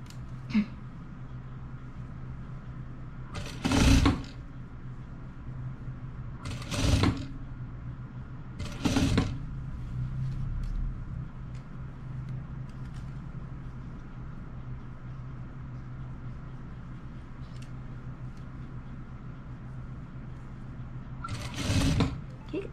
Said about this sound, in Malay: kita jahit dia sampai ujung tu